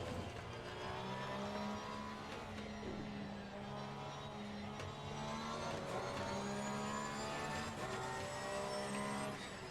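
A race car lapping the Spa circuit in the racing video game Assetto Corsa Competizione, the engine droning steadily and shifting pitch through gear changes and acceleration, loud and continuous without talk.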